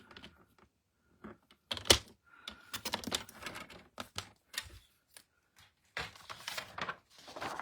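Cardstock being cut for a flip flap card in a scrapbooking session, giving a run of close, crisp clicks and scraping strokes in irregular bursts.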